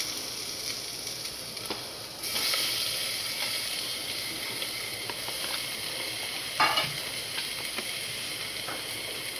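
Tomatoes fry for a mutton curry with a steady sizzle that jumps louder as they hit the hot oil, followed by occasional stirring scrapes under the constant hiss.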